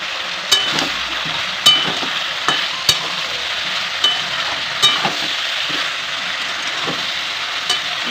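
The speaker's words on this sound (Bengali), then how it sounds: "ভালো করে কষাতে হবে" Mixed vegetables with green chili and ginger sizzle steadily in a pan for a home-style Bengali dish, while a spoon scrapes and stirs in soft, repeated knocks close by. No one speaks.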